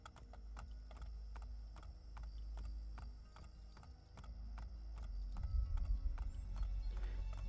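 Regular, rhythmic hoof clops of horses walking in the video game Assassin's Creed: Brotherhood, with a clicking mechanical tone, growing a bit louder and heavier toward the end.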